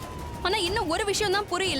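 A wailing siren sounds from outside in a Tamil TV drama scene, its pitch sweeping up and down steadily beneath a person speaking.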